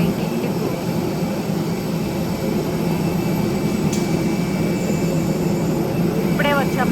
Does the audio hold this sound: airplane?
yes